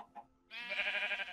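Sheep in Minecraft bleat in a single sustained, nasal, wavering cry that follows two faint short blips. The bleat is fairly close and there is no talk over it.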